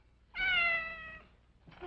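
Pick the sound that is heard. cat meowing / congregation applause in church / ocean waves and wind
cat meowing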